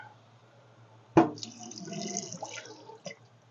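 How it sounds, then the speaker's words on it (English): Liquid poured off from an opened jar of home-canned, fully cooked potatoes runs into a sink, starting with a sharp clunk and then a steady, quiet trickle and splash that fades toward the end. "And I'm just going to drain off the liquid."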